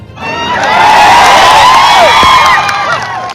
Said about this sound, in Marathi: टाळ्यांचा गडगडाट पडला आणि एकच आवाज उमटू लागला जय शिवालाल